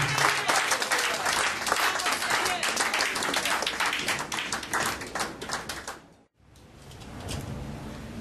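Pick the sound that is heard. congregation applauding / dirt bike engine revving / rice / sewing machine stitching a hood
congregation applauding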